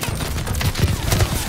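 Rapid automatic gunfire from a Call of Duty Vanguard multiplayer match on PS5, a dense continuous burst of shots loud throughout the short stretch with a busy game-sound backdrop.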